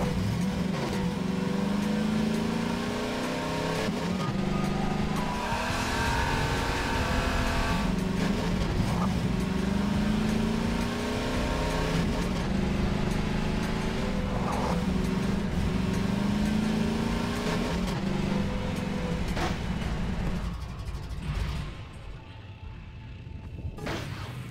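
A car driven in the video game Half-Life 2, its engine droning and revving steadily throughout, with a few knocks and bumps, fading toward the end.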